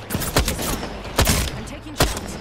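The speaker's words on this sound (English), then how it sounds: "I am taking fire" Sharp bursts of gunfire in a Respawn shooter video game, three distinct volleys spaced across a couple of seconds, moderately loud over a faint background.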